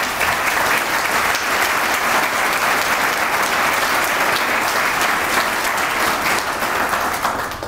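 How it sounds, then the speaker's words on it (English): A large audience at a charity celebration event breaks into loud, sustained applause, dense and even throughout with no voices over it. "I'm going to make sure he hears that applause."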